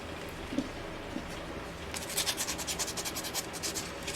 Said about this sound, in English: I'm just taking a little bit of sandpaper to remove some rust off of the